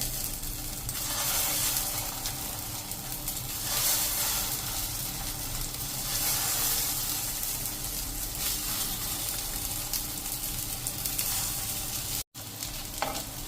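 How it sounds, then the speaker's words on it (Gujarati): Potato patties fry in ghee on a hot iron griddle over a low flame, giving a steady, dense sizzle that continues without a break, with no talking. "પહેલાં આપણે આ રીતે ઘી નાખી દેશું અને આપણે આ રીતે પેટીસ મૂકતા જઈશું"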